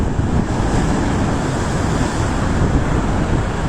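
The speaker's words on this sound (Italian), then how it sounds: "Guardate la furia del mare oggi." Rough sea waves on the Sicilian coast roar continuously, a loud dense wash of surf and spray with wind noise, no speech heard.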